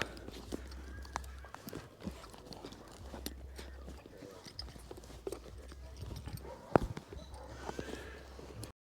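A saddled horse being led during a horseback ride near Ocho Rios, Jamaica, its hooves clopping in an irregular, moderate rhythm of light knocks over outdoor ambience, with one sharper louder thud.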